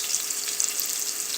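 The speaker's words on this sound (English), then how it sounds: "But first I'm going to saute this." Onions sauté in a pan, giving a close, bright, steady sizzle with faint crackles and no voices.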